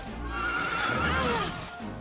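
A horse whinnies in the video game Dragon Quest XI, a loud, close neigh that rises and wavers for about two seconds, with faint hoof clops beneath it and no talking.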